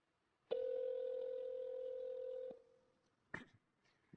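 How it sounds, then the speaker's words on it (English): An iPhone on speakerphone calls a mobile number, giving one steady two-second tone followed by a few quiet clicks and handling noises. "And now we are calling Johnny here"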